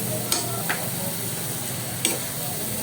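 A ladle scrapes and stirs frying food in a pan with a little oil, keeping it from sticking, over a low steady sizzle. A few separate scraping strokes stand out.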